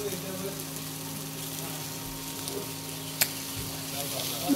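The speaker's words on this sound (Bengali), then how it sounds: "পুরোটা একসাথে ভেজে নিতে হবে" Chow mein with black pepper and salt fries in a pan, a steady low sizzle running throughout with a brief scrape of stirring near the end and no talking.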